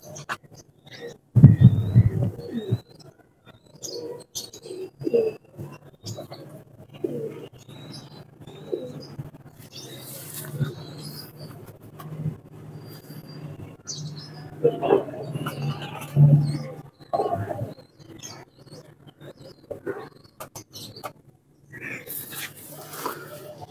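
Pigeons coo in soft, low, repeated calls from close by, with quiet flutters and other bird sounds scattered around them.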